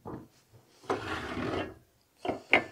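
Fresh propane tank pushed onto the connector of a Mr. Heater Buddy portable heater, heard as a short scrape and a sustained rubbing metallic grind, followed by a couple of sharp clicks and knocks nearby.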